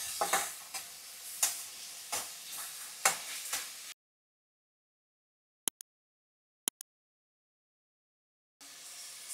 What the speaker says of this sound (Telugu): ఇప్పుడు ఇవి వేపుకోవాలన్నమాట.